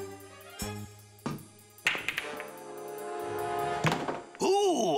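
A golf club strikes a ball in a Woody Woodpecker cartoon golf scene, heard as a sharp thunk among several hollow knocks, set against cartoon music with a rising swoop at the end.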